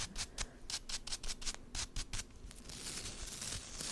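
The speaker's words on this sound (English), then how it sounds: "maybe we can use these scissors" Thrifted scissors snip in a quick series of crisp, close cuts, about a dozen in a steady rhythm over a few seconds, then trail off into soft rustling, with no talking.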